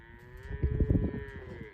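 A young heifer of about 700 pounds gives a single drawn-out moo, steady and fairly close, with no talk over it.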